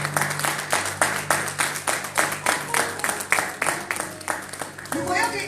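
A church congregation claps in steady, rhythmic unison, beat after beat of close hand claps with voices mixed underneath, fading into scattered claps and cheers at the end.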